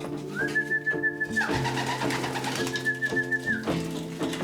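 Racing pigeons coo in a loft, two long rising-and-falling whistled coos with softer murmuring coos and rustling between them, close and clear with no talk.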